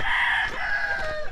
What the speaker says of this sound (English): We see the chickens and coconut tree there.